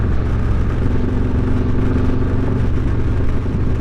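Continuous engine drone from motorcycles riding along the Foothills Parkway as a sport bike passes, a steady loud road roar with engine hum throughout and no talking.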